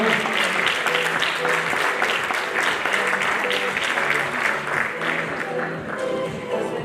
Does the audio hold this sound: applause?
yes